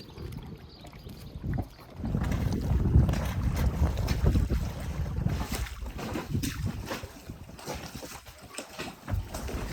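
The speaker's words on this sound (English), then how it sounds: "Little bit of a splashy ride. Wind is making it nice and choppy." A small boat slaps and thumps through choppy water while gusty wind buffets the microphone, a continuous rough, splashy roar.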